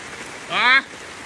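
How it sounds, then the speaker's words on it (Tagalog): Heavy rain falling over a flooded area, a steady close hiss running the whole moment, briefly overlaid by a short rising voiced sound. "Lakas-lakas ang ulan eh."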